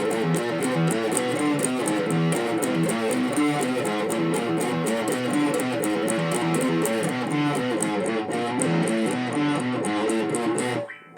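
Electric guitar plays the verse riff of a rock song, built entirely from rapid pull-offs, loud and steady with a dense, rhythmic string of notes and a slightly driven tone, alone without talk, cutting off abruptly at the end.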